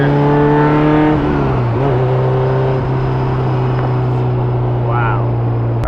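A built K24 engine in a Honda S2000 with a very light flywheel revs hard while driving, its buzzy, high-strung note dipping as the revs fall and then holding a loud steady drone close by.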